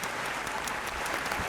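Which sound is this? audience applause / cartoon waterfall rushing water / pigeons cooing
audience applause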